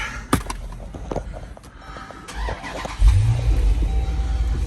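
Jeep SRT truck engine cranking over by remote start, a few short clicks and thumps, then the engine catches with a loud rising roar that settles into a strong idle.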